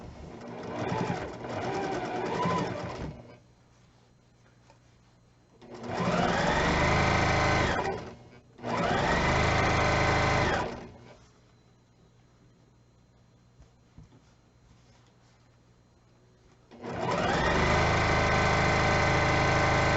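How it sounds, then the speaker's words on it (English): A sewing machine stitches fabric for a triangle pillow in three distinct bursts of steady mechanical whirring, with quiet pauses between runs and faint background sounds. "we're going to sew this side"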